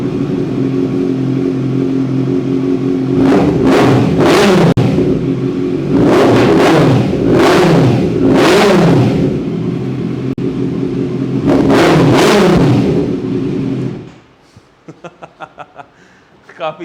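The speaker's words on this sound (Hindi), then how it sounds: "काफ़ी ज़बरदस्त लाउड आवाज़ है इस बाइक की।" A loud superbike with a custom full-system racing exhaust revs hard in three repeated bursts over a deep idle rumble, then cuts off, leaving a few faint clicks.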